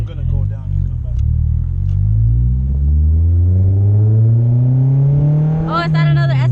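A Honda S2000 engine revs hard from inside the car, its pitch climbing steadily into a loud, high VTEC wail. Voices talk briefly under the engine.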